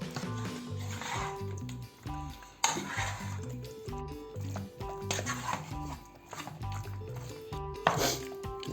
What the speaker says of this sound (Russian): Все, перемешиваем до готовности.